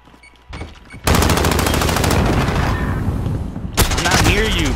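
Rapid automatic fire from an AS VAL suppressed rifle in a tactical shooter video game, sustained bursts over a few seconds, loud and close, with a brief pause and another burst, players' voices faintly mixed in.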